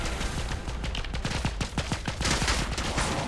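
Rapid bursts of video game gunfire crackle in steady succession, a dense run of sharp shots over continuous background noise with no talking.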